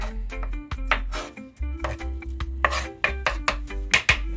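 A knife chops through onion on a cutting board in a home kitchen, a steady run of crisp, close taps with uneven rhythm and brief pauses between strokes.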